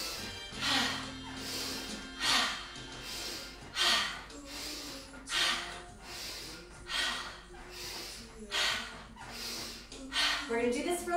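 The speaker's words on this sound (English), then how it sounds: "We're gonna breathe in." Steady group of swinging breaths in a children's yoga class, with repeated sharp inhales and exhales pulsing roughly every one and a half seconds, close and moderately loud, with music underneath.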